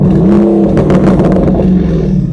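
Lamborghini Urus SE hybrid SUV engine revving loud and close, a deep continuous growl with rising and falling pitch and a few rapid rasping pulses.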